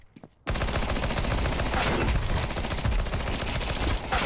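Rapid P90 submachine gun fire in Counter-Strike 2 erupts after a brief quiet start and rattles on loud and close, with dense overlapping bursts of shots filling the rest of the moment.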